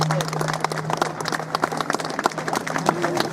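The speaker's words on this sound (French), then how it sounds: "Je vous demande de l'applaudir." An audience claps its hands in applause at a presentation ceremony, a dense patter of claps alongside crowd noise and a sustained low tone, with a voice or two faintly mixed in.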